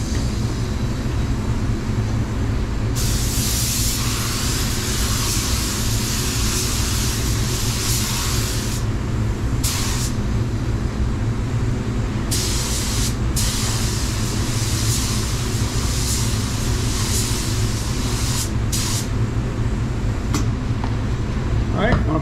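Steady hiss of a spray gun blowing pearl coat car paint onto a quarter panel, running in long bursts with brief pauses, over a constant low mechanical hum.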